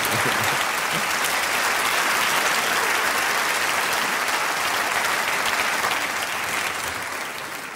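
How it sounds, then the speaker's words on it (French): Steady, sustained applause from a sizable audience, dense clapping that holds for several seconds before gradually thinning toward the end. "On peut les applaudir, parce que ça va quand même être une épreuve très difficile pour eux."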